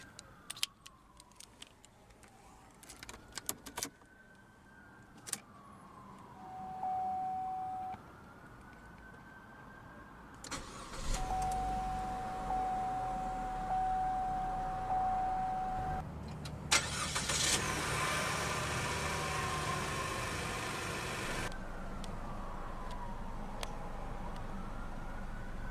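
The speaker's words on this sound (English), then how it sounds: "let's go ahead and start the engine" A 2016 Chevrolet Trax LT engine cranks and catches, then settles into a steady idle. Key-fob chimes and tones come first, and the running engine holds on to the end with no one speaking.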